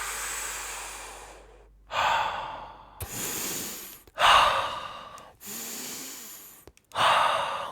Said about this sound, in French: Et c'est parti pour cette respiration circulaire,